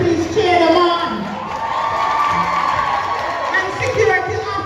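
A crowd at a high school career day cheers and shouts in a continuous, loud wash of voices with whoops rising and falling, talk mixed through the noise.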